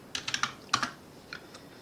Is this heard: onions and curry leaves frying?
no